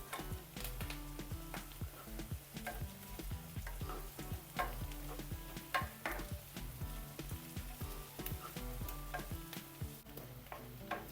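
Crushed ginger and ten to twelve garlic cloves fry in a pan under a constant close sizzle, with frequent rhythmic scrapes and taps of a spoon stirring them. There are no voices.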